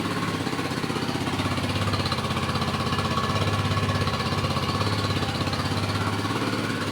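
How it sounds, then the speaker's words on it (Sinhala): A fuel-injected Hero Hunk 160R 4V motorcycle idles through its exhaust with a steady, close, continuous thrum and no change in pace. "මේක තමයි exhaust sound එක."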